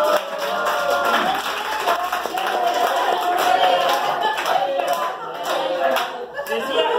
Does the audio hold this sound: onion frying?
no